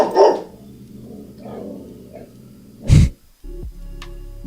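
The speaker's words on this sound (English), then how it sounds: "Hold on. I gotta calm my dog down." A pet dog barks and growls close by in a few sharp bursts, with one loud bark standing out near the end, and no talk over it.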